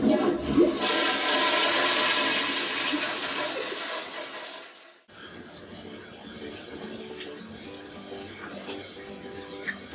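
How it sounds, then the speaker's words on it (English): A toilet flushes with a loud rushing gush for about five seconds. It cuts off abruptly and is followed by quieter trickling and refilling water. "Flush the toilet when you are done"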